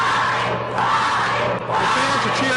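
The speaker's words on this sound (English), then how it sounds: "The fans are cheering for Bobby Yela to get back on his feet to climb." Wrestling crowd at an AIWF Mid Atlantic cruiserweight ladder match, a dense, sustained roar of cheering fans filling the arena, loud and continuous with slight swells.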